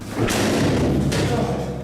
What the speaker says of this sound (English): he slams a metal door shut